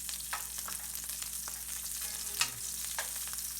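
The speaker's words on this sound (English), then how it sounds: "In go the Brussels sprouts." Brussels sprouts sizzle face down in a very hot, smoking pan on medium heat, a steady frying hiss with soft stirring clatters and one sharper clink near the middle, no talk.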